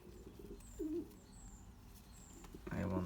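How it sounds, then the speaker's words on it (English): Pigeons coo softly in a loft, giving a couple of low throaty coos with faint chirps and background rustle, and a louder coo comes near the end. "Okay, these pigeons."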